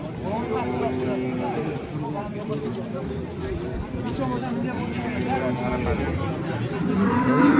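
Cattle mooing at Andijan's Yakkatut livestock market, several drawn-out low calls, one after another, over crowd noise and nearby talk.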